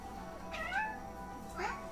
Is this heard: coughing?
no